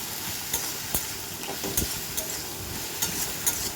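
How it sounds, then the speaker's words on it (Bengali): Okra fries in a pan with mustard, salt, a little sugar and turmeric, a steady soft sizzle under repeated sharp scrapes and taps of a spatula stirring it, close and moderately loud. "ঢেঁড়সটা ভাজতে হবে ভালো করে এবার নেড়ে নেব"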